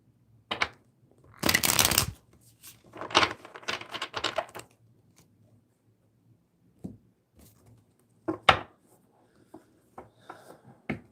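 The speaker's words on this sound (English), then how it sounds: "You shuffle the energy cards here." Tarot cards being shuffled in close, crisp bursts of riffling and tapping, a loud flurry early on, then scattered shorter shuffles and card snaps separated by quiet pauses.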